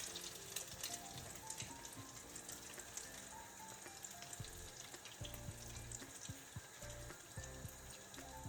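Shrimp fry in a pan with a soft, steady sizzle and crackle, faint and continuous, with occasional light clinks and stirring movements over it.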